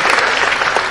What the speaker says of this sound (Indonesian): Boleh tepuk tangan yang lebih meriah lagi buat film Indonesia.